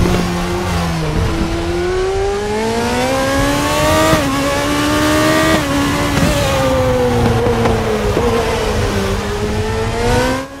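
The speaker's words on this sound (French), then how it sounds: "J'ai augmenter un petit peu le son du moteur pour vous laisser en profiter." Race car engine in the RaceRoom sim game revs and shifts continuously, rising and falling pitch bands through gear changes, loud and close with no talk over it.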